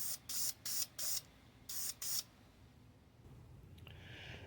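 Aerosol paint sprays onto hood latch parts for an E46 BMW in short bursts, five quick hisses followed by a longer pause, close and loud, then quieter handling noise.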